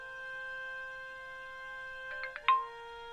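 A phone message alert in the video game Broken Sword 5: a steady electronic tone holds, then a quick run of three or four bright chirping beeps ends in a short rising blip, clean and close.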